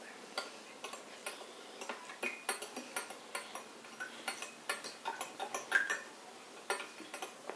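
A utensil stirs food coloring into a mixture in a dish, producing quick, regular ticking clinks against the dish's sides, close and fairly light, repeating steadily with no one talking.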